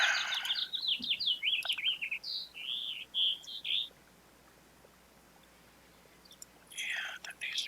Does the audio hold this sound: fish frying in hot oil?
no